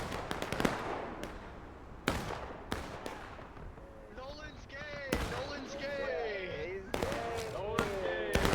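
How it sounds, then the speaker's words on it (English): Sharp, loud musket shots crack at irregular intervals in the Civil War game War of Rights, set in the East Woods skirmish, with some echoing and voices talking between the shots. "I've been seeing some shots go off."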